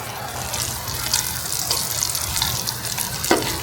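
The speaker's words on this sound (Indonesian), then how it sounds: "Ini aku tutup juga karena anginnya kencang banget, terus air hujannya masuk." Strong wind driving rain into an open space, a loud continuous rushing wash of water with occasional splashes and drips.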